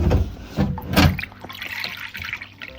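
Water is poured from a carried vessel to refill alpacas' water containers, a close splashing gush that swells twice and then settles into a lighter trickle and drip.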